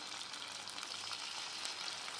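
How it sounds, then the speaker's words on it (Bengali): Cabbage manchurian balls fry in a wok of hot oil, a faint but steady bubbling hiss with no distinct knocks. "বাকিগুলো আমি একই রকমভাবে ভেজে নেব।"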